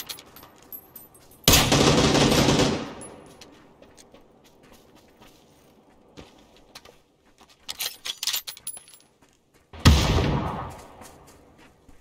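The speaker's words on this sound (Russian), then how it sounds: "У него пулемет." Automatic machine gun fire from PlayerUnknown's Battlegrounds rips out in two loud, dense bursts of about a second each, separated by quieter scattered shots and game noise.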